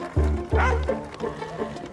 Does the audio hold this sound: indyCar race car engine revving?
no